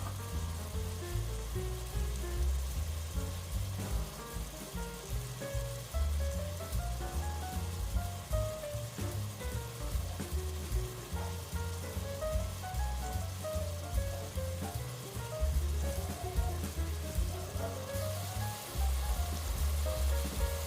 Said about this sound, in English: The temperature will get back up and it'll start frying again in a minute.